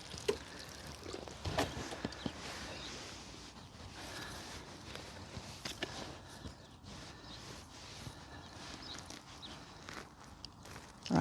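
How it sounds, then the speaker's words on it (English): Potted plant on an allotment being watered before repotting, water pouring and splashing into soil with scattered knocks and footsteps, quiet and uneven, no voices. "So I think I'll give it a bit of a watering before I take it out of the pot."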